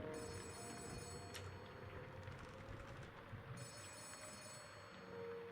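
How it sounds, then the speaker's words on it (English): Office phone ringing in the video game Letter Lost, a faint electronic ring in two short bursts separated by a pause, set against a low rumbling ambient background. "The office phone is ringing."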